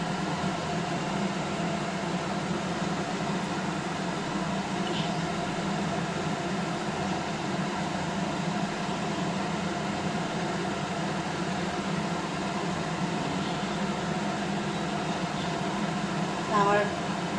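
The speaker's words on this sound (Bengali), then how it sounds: "এবার আমি ভেজে নেব।" Taler bora, palm fritters, fry in hot oil on a gas stove, giving a steady, dense sizzling hiss that runs unbroken and fairly close throughout.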